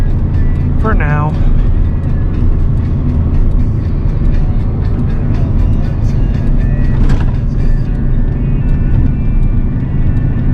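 A 24-year-old truck with an 8.1-litre gas V8, towing 18,000 pounds on a long mountain haul, drones loudly and steadily at high revs from inside the cab, with a brief voice over the engine noise.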